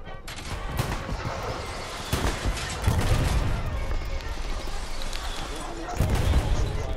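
Artillery barrages in the Hell Let Loose video game, a dense continuous rumble of heavy blasts and distant booms with louder impacts throughout, while a voice talks over the battle.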